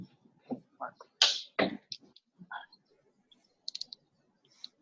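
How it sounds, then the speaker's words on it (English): Scattered clicks of computer keys being typed, irregular short taps close by in a quiet room, with a few louder strokes. "Yeah, I'm typing."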